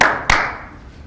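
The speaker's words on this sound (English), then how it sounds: "So I'm going to clap my hands a little bit more for the next 20 minutes." Two sharp hand claps, one at the start and another about a quarter second later, each with a quick bright attack and short decaying ring in a room, alone without talk.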